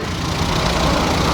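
Idling engine of a 2015 Toyota Etios G Valco with manual transmission, a steady low rumble holding even and close with no voices over it.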